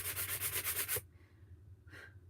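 About a second of rhythmic back-and-forth scraping of a sanding block on wood, then quiet with a soft breath.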